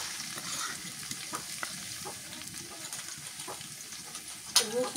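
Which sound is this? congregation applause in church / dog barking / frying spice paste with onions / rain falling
frying spice paste with onions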